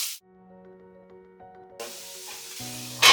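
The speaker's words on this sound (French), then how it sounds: "on fait fondre le beurre, et on va rajouter petit à petit les poires" Conference pears cooking in melted butter in a pan, with a soft broadband sizzle rising after a quiet tonal stretch and a brighter burst of frying at the end.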